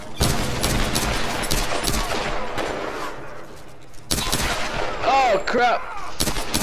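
Gunfire from a Tomb Raider video game battle, with dense, loud shots and booming blasts layered over a noisy action soundtrack, a short pause, then another burst, while a man briefly reacts.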